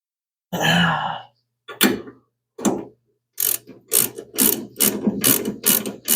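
Ratchet wrench tightening a castle nut on the new suspension of a 1975 Plymouth Duster: several short bursts of rapid clicking, close and loud, with pauses between, then quickening into a steady run of strokes.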